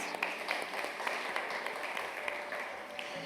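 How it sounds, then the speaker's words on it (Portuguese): Applause from a church congregation during a sermon: a dense, steady patter of many hands clapping at moderate distance, continuing evenly for a few seconds with no clear voices over it. "vocês merecem palmas"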